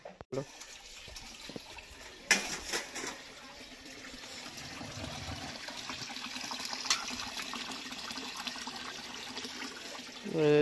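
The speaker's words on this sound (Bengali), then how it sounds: "জলটা ভরবে আর বাসন মাজছে।" Water running steadily from a tap while a vessel fills and dishes are washed, a continuous near rush with occasional clatter, with faint talk in the background.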